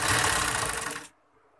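A sewing machine stitches the slit of a kameez, a close, buzzing mechanical whir running steadily for about a second before stopping abruptly into near silence.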